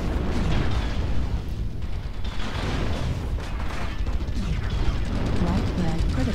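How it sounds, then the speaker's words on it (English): Artillery strike explosions boom and rumble continuously in a mech combat video game, a dense, loud wall of blasts and mechanical clatter with no pause, heard alone. "Artillery strike"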